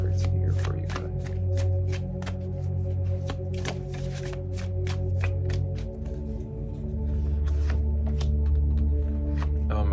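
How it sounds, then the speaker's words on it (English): Tarot cards shuffled by hand for a reading, a rapid run of crisp riffling and slapping snaps close up, over a steady low hum throughout. "Let me go ahead and pull a few cards here for you guys."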